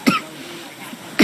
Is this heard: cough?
yes